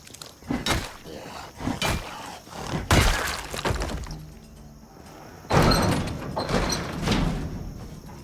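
Zombies in Project Zomboid batter a door with a run of heavy thumps and thuds, then louder cracking impacts like splintering wood, close and forceful with no talk.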